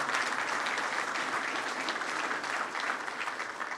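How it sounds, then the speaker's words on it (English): Steady applause from an audience at a talk on renewable hydrocarbon diesel, a dense, even wash of clapping that holds at a constant level for the whole stretch with no voices on top. "If we could get a round of applause for Dave."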